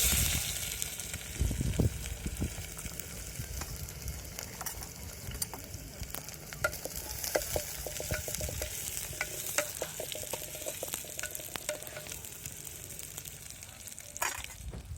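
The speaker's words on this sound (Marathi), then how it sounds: "पातेले ठेवून तेल टाकले, आता कांदा टाकते." Onion sizzling and crackling in hot oil in a pot over a wood-fired village stove, a steady close frying hiss with scattered pops and occasional stirring scrapes, no talking.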